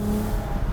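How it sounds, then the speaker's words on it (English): A Kia Sedona minivan with an open differential revs hard on a rally stage as its front tire spins, giving a brief, loud, steady engine roar with a hint of tire scrub. "Open diff, just spins the left front tire."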